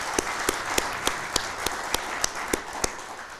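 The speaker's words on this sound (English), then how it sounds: "let's give him a round of applause as well." Audience applause at a fire department badging ceremony, dense clapping at moderate distance with a few sharper, regularly spaced louder claps standing out above the rest.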